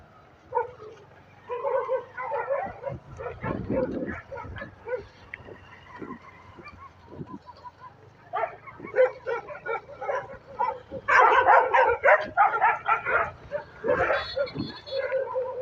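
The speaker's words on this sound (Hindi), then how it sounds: "यहाँ पे इतने ज़्यादा कुत्ते हो गए हैं।" Several street dogs bark, yip and whimper on a city street in bursts of varying loudness, some close and some farther off, with brief quiet gaps between outbursts.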